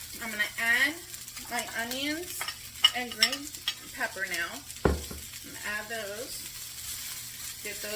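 Hash browns fry on a flat griddle, cooked longer for extra crispness. A soft, steady sizzle runs under a person talking, with one sharp scrape or clatter of a utensil partway through.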